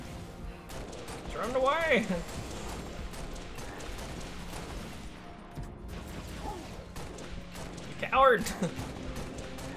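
Gunfire in the Halo: Reach campaign, with sustained rapid shots rattling under a player's excited commentary and two sharper bursts standing out, one early and one near the end.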